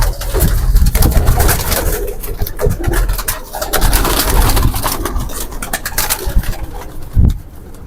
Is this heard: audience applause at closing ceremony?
no